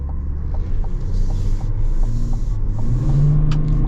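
A 2024 Chevy Suburban with the Duramax diesel accelerates, a deep rising engine rumble that builds steadily and loudly from inside the cabin, with no talking.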